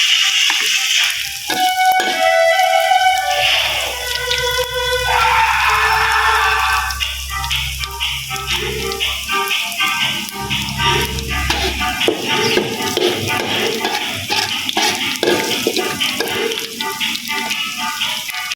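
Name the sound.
frying garlic in a pan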